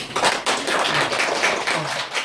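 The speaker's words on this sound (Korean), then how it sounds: "인사하고 한마디 인사하면 박수 한번 쳐보세요" A small seminar audience at a skin-care shop owners' training session claps for a graduating class member, a loud, close burst of brisk clapping that holds steady and fades slightly at the end.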